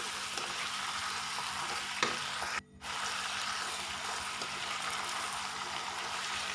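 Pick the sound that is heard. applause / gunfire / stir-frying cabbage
stir-frying cabbage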